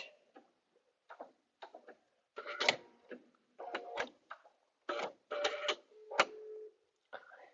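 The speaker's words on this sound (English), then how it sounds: "And now I'm going to back stitch to secure it." A sewing machine back stitches through quilt fabric in short stop-start bursts of rapid mechanical whirring and ticking, close and quiet, with pauses in between and no talking.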